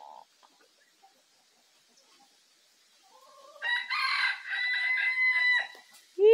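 A rooster crows loudly and close by on a small farm, one drawn-out, wavering call after a few seconds of near silence.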